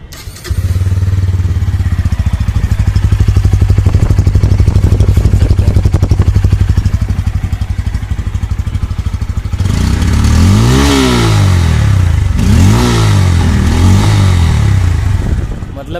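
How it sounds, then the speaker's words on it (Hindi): A 2026 Bajaj Pulsar N160 motorcycle with its stock exhaust idles with a loud, steady rumble, then revs up and down twice in sharp bursts, close by. "मैं आप सबको इसका एग्जॉस्ट साउंड सुनाता हूँ।"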